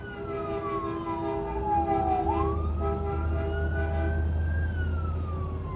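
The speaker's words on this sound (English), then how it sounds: "That dude turned that siren on and he not even a fire truck." A siren wails from a truck hauling fire truck equipment, its pitch sweeping down and then rising again under a steady low engine rumble, loud and nearby with no talk.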